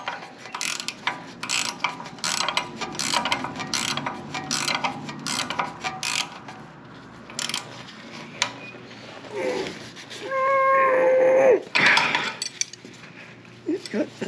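A ratcheting wrench tightens 10 mm and 13 mm bolts on a Moto Guzzi centre stand: rapid close clicking bursts in a steady rhythm, then a pause followed by metallic scraping and a brief ringing metal clank.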